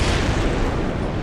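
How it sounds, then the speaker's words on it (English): A tactical nuke rocket detonating in the Minecraft Tech Guns mod, a loud, dense, sustained blast rumble filling the whole moment with no talk. "Yeah, that explosion was kind of late."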